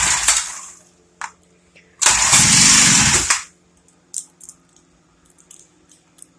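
A small Honda GXH50 engine on half choke is pull-started, a brief rough burst of engine noise lasting about a second amid pulls and clatter, close and loud, then sputtering out to faint knocks.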